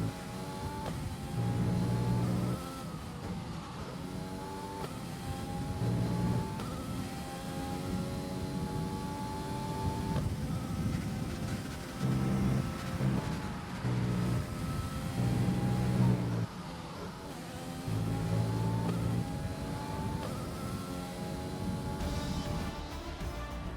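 F1 car engine screaming through a lap in the F1 2020 video game, continuous high-pitched revving that rises and drops sharply through gear changes and braking zones, loud and alone throughout.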